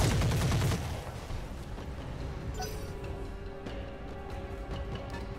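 Mech weapons fire in the Roguetech game: a heavy, loud burst of gunfire opens, then gives way to quieter rumbling and scattered lighter shots.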